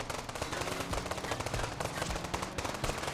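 Rapid automatic gunfire from the video game Los Angeles Crimes, a dense continuous burst of loud shots rattling without pause, close and harsh with no talk over it.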